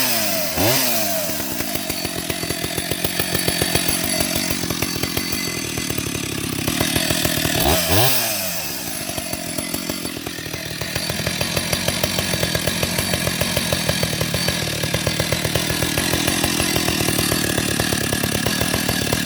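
A vintage Stihl 031 AV chainsaw roars loud and close, its engine revving up and down in surges while the chain bites through wood, the pitch dropping under load and climbing again between cuts.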